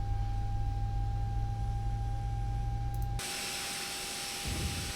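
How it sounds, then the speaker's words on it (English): A simulated ToliSS A319 with IAE engines spins up during engine start in X-Plane 11. A steady whine and low rumble drone on, then shift abruptly to a brighter, louder hiss. "engine is spinning over. You can hear it."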